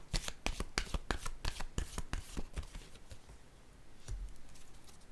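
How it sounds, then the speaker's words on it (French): Playing cards are drawn and shuffled up close, a quick flurry of crisp riffling snaps that thins into softer, scattered card rustles, with no voices. "Je vais piger une autre carte."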